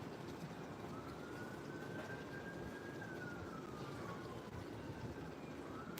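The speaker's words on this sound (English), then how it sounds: "Uh-oh, more sirens." An emergency siren heading toward the beach wails in the distance, its pitch rising and falling slowly over steady background traffic noise.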